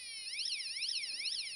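A six-sound electronic alarm sounder powered by a 1.5 volt battery gives a loud, steady warbling siren that sweeps up and down in regular cycles, heard alone and close.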